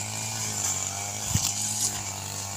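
A gasoline-powered grass cutter drones steadily nearby with a buzzing two-stroke whine, its engine pitch wavering slightly and briefly surging midway.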